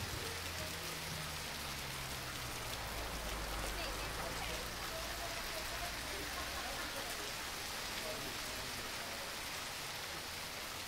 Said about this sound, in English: Do you mind the rain?